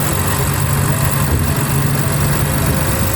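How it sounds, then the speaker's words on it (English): A direct-injected car engine idles steadily with noisy injectors, producing a constant close mechanical hum and ticking with no change in pace and no talking. "These cars are direct injected, so when you fire it up, the injectors are super noisy"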